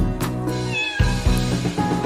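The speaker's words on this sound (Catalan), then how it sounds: "Fem sorolls de gatet junts amb un miau, miau, miau, miau, miau" A cat meows several times in quick succession, close and fairly loud, with no talking over it.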